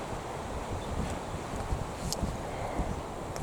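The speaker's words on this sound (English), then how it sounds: "it's still very windy" Steady wind rumbles and buffets the microphone throughout, a constant low roar with occasional gusts and faint rustling.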